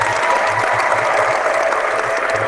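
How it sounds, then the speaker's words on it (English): Sustained applause from a wrestling-show audience for Preston Godzilla Hawk, a dense, steady wash of many hands clapping at even loudness throughout, with no voices standing out. "let's give a round of applause for Preston Godzilla Hawk"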